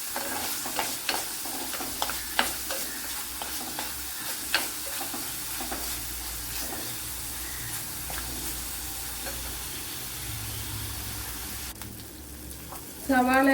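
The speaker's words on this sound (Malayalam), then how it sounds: "നെയ്യ് ഒഴിച്ചു കൊടുത്ത് നല്ലതുപോലെ ഒന്ന് വഴറ്റിയെടുക്കാം." Chopped onions sauté in a teaspoon of ghee, a soft steady sizzle close by punctuated by occasional scrapes and clicks of stirring, with a louder clatter at the very end.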